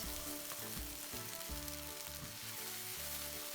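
Egg fried rice with soy sauce sizzles loudly in a hot pan as it is stirred, a continuous frying crackle broken by rhythmic scraping strokes of the spatula.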